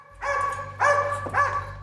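A prison patrol dog being worked up by a decoy playing a perpetrator gives three loud, close barks in quick succession, each a harsh burst with a lingering tail, over a steady low hum.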